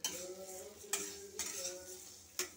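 Vermicelli frying in butter in a hot wok, with a spoon scraping and stirring in several sharp strokes over a soft continuous sizzle, close and alone without any voices.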